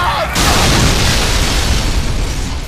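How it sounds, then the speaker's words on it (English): A bomber zombie blows up in the Lollipop Chainsaw video game: one loud, dense explosive burst with a boom, then a sustained rumbling roar that holds steady for a couple of seconds. "Bomber zombies will explode on contact with a fire zombie"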